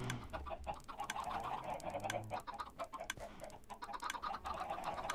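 Minecraft chickens cluck steadily in a busy flock, close and fairly quiet, with short clucks repeating in quick bursts and no talking.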